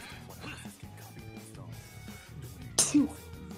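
A single short, sharp sneeze bursts out near the end over a steady bed of video game sounds and background noise.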